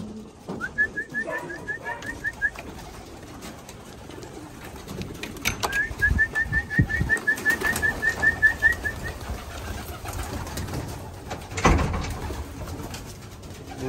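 Racing pigeons cooing in a loft in cold weather after a flight, soft repeated rolling coos in two runs of a few seconds each, near the microphone, with rustling, wing flaps and light movement around them.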